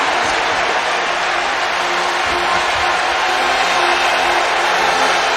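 Large football stadium crowd at a college game between Clemson and North Carolina, a dense, steady roar of cheering and applause that stays loud throughout without breaks.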